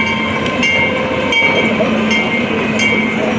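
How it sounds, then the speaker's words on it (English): A train rumbles past close by at the Tulsa Zoo in Oklahoma, with a steady heavy roar, metallic squeals and faint rhythmic clacks of the cars. "There's a train going by."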